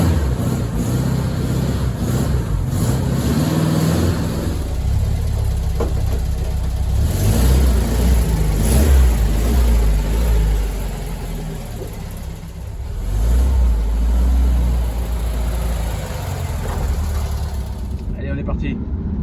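A Volkswagen Beetle engine left unstarted for nine or ten months runs steadily at close range, its rough mid-pitched drone rising and falling as it revs and idles for nearly twenty seconds, with someone talking over it.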